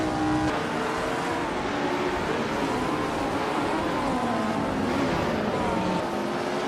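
A 1965 Brabham BT7 race car engine drones steadily in a racing game, a continuous mid-distance roar with shifting pitch as it holds pace in the pack.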